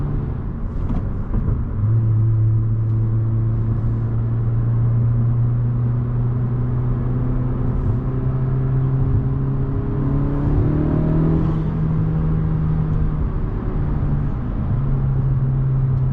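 A tuned 2020 Honda Civic Si with a TSP Stage 1+ tune drones steadily and climbs in pitch as it accelerates, then shifts gear and keeps pulling, loud and close throughout.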